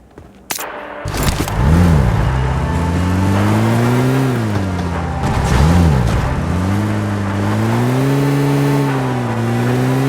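A car driven in the battle-royale game PUBG Mobile, its engine droning loud and close, rising and falling in pitch in repeated revving swells as it accelerates and eases off.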